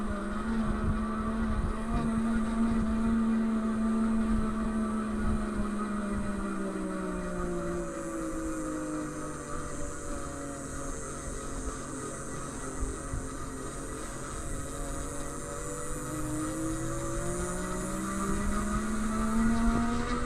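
A Ride1UP 700 ST e-bike motor labours up a steep climb, giving a continuous low grunting whine whose pitch slowly rises and falls with effort, accompanied by rolling and wind noise.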